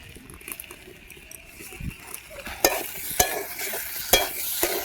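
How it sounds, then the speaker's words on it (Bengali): Vegetable curry masala, made with home-grown jackfruit, is stirred and fried in a pan with a steady sizzle, broken by several sharp spatula scrapes and knocks against the metal, close and fairly loud with no talk. "সবজি মশলাটা দিয়ে 2-4 মিনিট কষিয়ে নেব"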